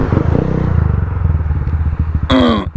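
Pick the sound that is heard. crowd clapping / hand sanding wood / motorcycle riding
motorcycle riding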